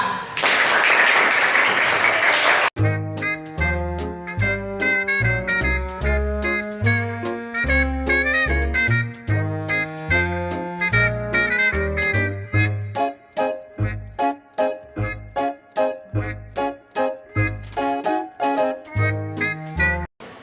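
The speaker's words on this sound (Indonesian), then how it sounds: "beri tepuk tangan kelompok 2" A fifth-grade classroom claps for group 2 in a short, loud burst of applause lasting a few seconds. A bright, melodic music track follows alone.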